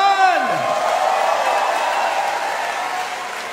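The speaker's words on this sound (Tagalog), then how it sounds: "Isang malakas na palakpak naman dyan!" Crowd at a Duterte Youth Party List political rally in the Philippines claps in a broad, sustained wash after a voice trails off at the start, the applause staying fairly loud and slowly fading.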